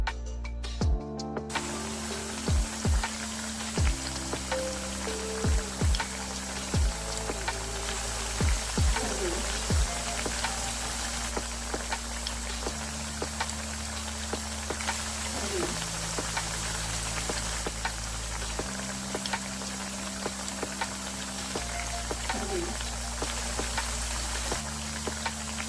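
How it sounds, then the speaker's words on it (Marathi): Sliced spinach vadi rolls sizzle and crackle steadily as they fry in hot oil, a continuous bubbling hiss with scattered pops and short clinks under quiet background music. "हे रोल थंड झाल्यावर त्याचे काप करून गरम तेलात तळून घेऊ"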